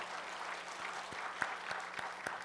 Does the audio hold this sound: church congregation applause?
yes